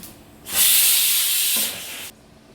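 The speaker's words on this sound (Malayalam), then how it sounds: "ഇനി ഇതിനങ്ങ് കടു വറുത്താലോ" Mustard seeds frying in hot oil for tempering, a sudden loud burst of close, bright sizzling hiss that holds steady for about a second and a half and then cuts off abruptly.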